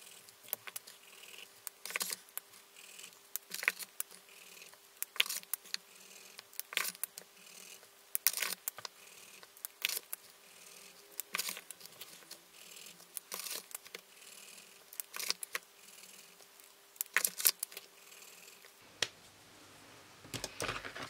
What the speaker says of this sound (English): So I'm gonna doodle all of these and see what colors come out.